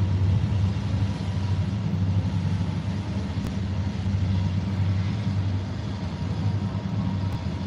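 A Terminal Railroad Association freight train by the Mississippi River near North Alton, Illinois, gives off a steady, heavy low rumble. The rumble holds at an even loudness throughout with no pauses.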